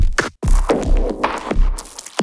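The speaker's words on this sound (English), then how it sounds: "super crunchy and weird loops" A crunchy, weird sampled loop cycles through gritty, distorted hits and noisy bursts. Its choppy rhythm has a short dropout near the start, and it plays loud with no voices.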